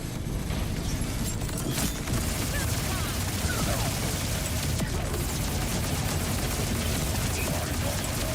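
A Brickhouse SMG in Borderlands 4 fires rapidly in dense, continuous bursts, a loud unbroken rattle of gunfire that fills the whole stretch with no pauses.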